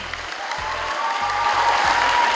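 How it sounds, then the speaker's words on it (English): Audience applause at a secondary school debate round, a steady dense wash of clapping from a crowd that fills the room and holds for a few seconds at even loudness. "Round of applause for Kokopo Secondary team."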